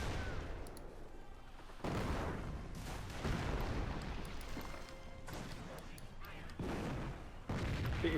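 Dense battlefield gunfire from a Company of Heroes 1v1 match, with rifle and machine-gun bursts and heavy thuds in overlapping waves, loud and continuous throughout, with some voice beneath the din.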